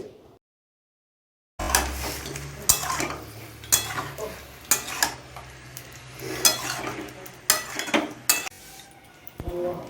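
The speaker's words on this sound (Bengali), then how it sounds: "কিছুক্ষণ পর পর নাড়াচাড়ার মধ্যে রাখতে হবে, নয়তো নিচে লেগে যাবে।" Lotte fish cooked with mustard paste in a pan is stirred with a utensil, making repeated close scraping and clinking strokes against the pan over a soft sizzle after a brief silence; no talking.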